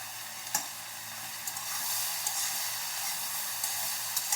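Taro stems are poured into a pan of garlic and ginger fried until red, bursting into a loud, continuous close sizzle marked by a few sharp pops and spatters.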